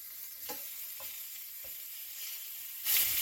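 Veal shanks searing in a pan over high heat, a steady close sizzle broken by a few soft bumps as the meat is turned, with a louder hiss swelling at the end.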